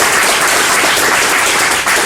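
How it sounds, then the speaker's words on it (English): An audience applauding the CMU TEBA board at a university panel event, loud continuous clapping from a roomful of people, close and unbroken with no voices on top. "please give a round of applause for the CMU TEBA"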